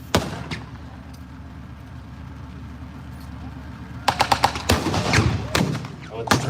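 Several sharp, loud reports from M7 Priest self-propelled guns of the 392nd Battery, 98th Field Regiment Royal Artillery at a tank reenactment weekend, one early blast followed by a rapid cluster of bangs later, over steady crowd murmur and background talk.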